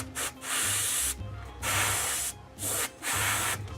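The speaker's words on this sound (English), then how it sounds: "just spray the entire model bone white" An airbrush sprays bone white paint over a miniature in several close, steady hissing bursts of about half a second to a second each, with brief pauses between them.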